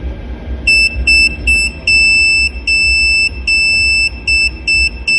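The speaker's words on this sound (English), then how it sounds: "SOS Morse code with a buzzer." A high electronic buzzer beeps in a pattern of short and long tones, repeating the SOS Morse signal over a low background hum.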